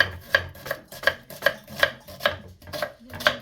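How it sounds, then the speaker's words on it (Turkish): A knife chops an onion on a board in a steady rhythm, about ten crisp close thuds spaced evenly, with no voices. "Soğanımızı doğruyoruz."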